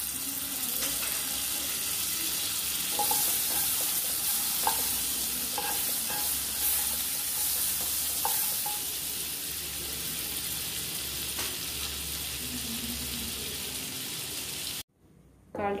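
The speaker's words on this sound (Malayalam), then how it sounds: "അതിലോട്ട് ചൂടായി കഴിയുമ്പം ഒരു സ്പൂൺ ബട്ടർ ഇടുക." Butter heating in a hot kadai while paneer butter masala is cooked, giving a steady close sizzle with occasional stirring clinks, then cutting out briefly near the end.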